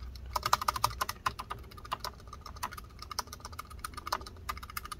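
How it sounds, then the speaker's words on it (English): Butterfly-mechanism keys on a MacBook keyboard, just fixed after a key hinge repair, clack under quick repeated presses: a close, dry run of sharp plastic taps with no talking. "Hear how it's a little bit more clacky, but it's okay."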